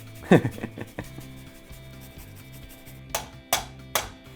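A whole onion rubbed across a grater for arrabbiata pasta, with irregular scraping strokes, several sharper rasps near the end, and a low steady hum beneath.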